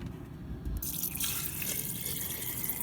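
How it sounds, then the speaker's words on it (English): Water poured into a jar of Irish sea moss, a steady close splashing fill with no talk. "And then in this jar, I'm going to pour in some water."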